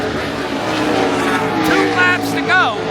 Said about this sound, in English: With 4 to go, the 88 car takes the lead.